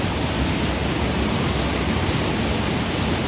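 Close, steady roar of the Chappanthottam waterfall, a little-explored hidden cascade, with water crashing continuously at full strength and no break or other sound.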